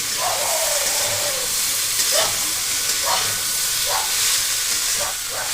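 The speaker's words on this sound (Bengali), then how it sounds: "এই আদা বাটাটা কিন্তু দিয়ে গ্যাসটাকে সিম করে খুব ভালো করে কষিয়ে নিতে হবে" Mixed vegetables with ginger paste sauté in a pan over low flame, a loud continuous sizzle broken by several rhythmic stirring scrapes close up.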